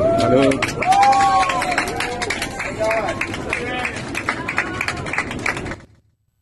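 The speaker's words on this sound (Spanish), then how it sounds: "Sí, sí, el aplauso." Passengers and crew on an Avianca airliner break into applause, a dense patter of many hands clapping in the cabin while voices call out and chatter over it, ending abruptly.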